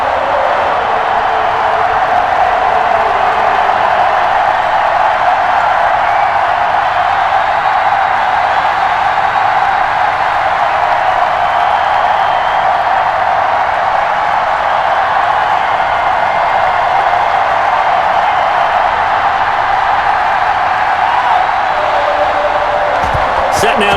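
Stadium crowd in the Madden NFL 21 football game, a dense, loud, continuous roar of cheering fans with no clear breaks, holding steady for the whole stretch.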